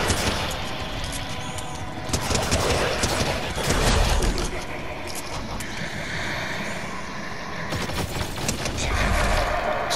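Gunfire from the Exotic Shadow Tracker in Fortnite, a dense run of shots in bursts over a busy game mix with rumbling and a few loud surges.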